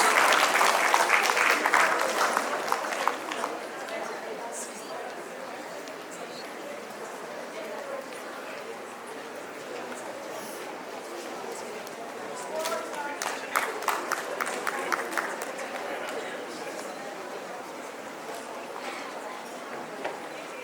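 An audience at a national debate and excellence awards ceremony applauds the winning school, APS Raniket, with sustained clapping that swells and fades, while voices speak over it.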